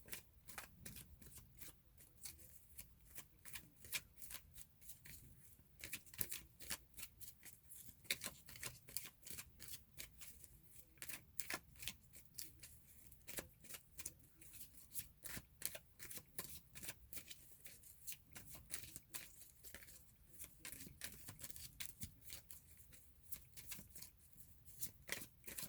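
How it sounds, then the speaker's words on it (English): Tarot cards shuffled and pulled on a bed, a long, steady stream of soft, dense riffling flicks and rustles, close but faint, continuing without pause and without speech. "I am not used to pulling cards on my bed."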